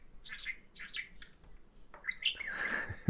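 A small pet bird chirps a few short phrases, mimicking the word "testing," then lets out a louder whistled call near the end, close and alone.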